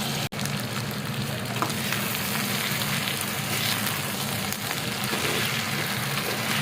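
Maggi noodles frying in a pan with chili and tomato give a steady, close, hissing sizzle that stays level throughout, with a single brief knock near the start and no talking.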